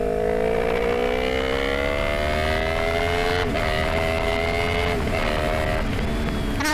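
Motorcycle engine revving loudly up close, its exhaust popping, with a strong harmonic whine climbing steadily in pitch and a few brief breaks in the tone, alone without voices.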